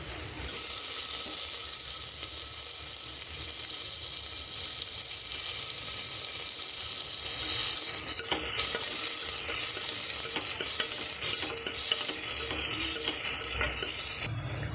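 Chopped tomatoes frying with sautéed onions in a pan, a loud continuous sizzle throughout with stirring scrapes and occasional utensil clinks growing busier toward the end.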